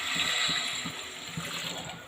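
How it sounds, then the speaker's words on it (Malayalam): Water is poured into a pot of Kerala-style cauliflower curry, a steady near pouring and bubbling rush with faint rhythmic low thuds underneath. "എന്നിട്ട് ആവശ്യത്തിനുള്ള വെള്ളം ഒഴിച്ച് കൊടുക്കാം."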